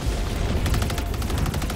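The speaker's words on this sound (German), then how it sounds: "dass ich gerade meine Türmchen schießen höre" A rapid burst of turret gunfire in Helldivers 2, a string of fast repeated shots over a dense, rumbling background.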